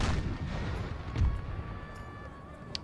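Canister shot cannon fire in a Napoleon Total War battle, a dense rumbling barrage of booms with one heavier blast near the middle, steady and fairly loud throughout.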